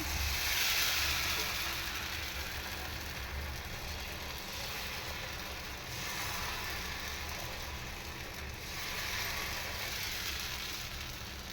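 Ragi flour dosa batter sizzles on a hot pan, giving a faint, steady hiss that swells gently in soft waves without any voices over it.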